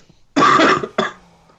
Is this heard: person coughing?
yes